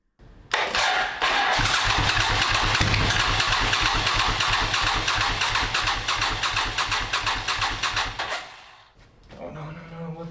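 A 37-year-old Suzuki Intruder 1400 motorcycle, unstarted for over five years, cranks and fires up, its engine running loud and close with a steady rapid throb for about eight seconds before cutting out and catching again briefly.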